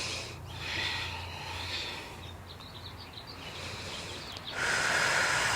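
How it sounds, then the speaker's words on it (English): Deep breathing during a yoga flow, slow airy inhales and exhales with a rush of breath swelling near the end, close to the microphone and alone. "Full breath here."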